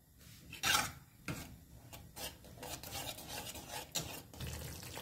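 Yogurt gravy for stuffed dum aloo, made without onion, is stirred and roasted in a pan, giving repeated scraping, rubbing strokes of a spoon against the metal with faint frying underneath, close and steady with no talk.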